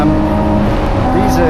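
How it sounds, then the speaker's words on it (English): BMW 235i Cup race cars roar around the Taupō circuit during a BMW Race Driver Series race, a loud sustained engine drone with shifting pitch as they pass. "These are two 235i Cup cars, Martin Day and Barry Cope-Bernand."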